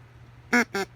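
Two short harmonic honks from a cheap rubbery duck call blown straight through without cupping, loud and close against a quiet background, buzzy rather than duck-like.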